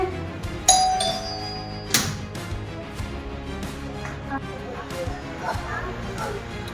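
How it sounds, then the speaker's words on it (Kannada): A doorbell rings indoors with a clear electronic chime near the start, followed by a few thumps and knocks while people talk over the room sound. "ಅಯ್ಯೋ ಮತ್ತೆ ಬೆಲ್ ಮಾಡ್ತಾರಲ್ಲ"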